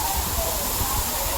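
Bhivpuri waterfall in monsoon rain, a constant loud roar of falling water filling the scene, with voices faintly under it.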